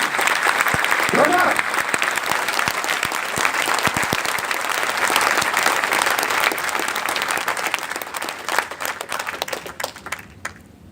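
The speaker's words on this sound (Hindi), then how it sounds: "ताली एक जोरदार बजाओ डायरेक्ट सेलिंग के नाम" A large audience claps loudly and steadily at a direct selling motivational gathering, dense applause filling the hall for about ten seconds before thinning out at the end.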